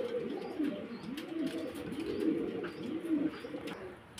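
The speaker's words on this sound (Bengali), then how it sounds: "একজোড়া কবুতর নামছি" Pigeons coo in soft, repeated rounded phrases, a steady low rolling call close by with faint background noise.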